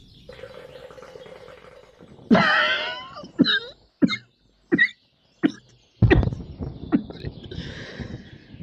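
A man coughs hard after drawing on a hookah: a loud burst, then a run of short, sharp coughs and throat clearing with brief gaps, and a final cough over a quiet background.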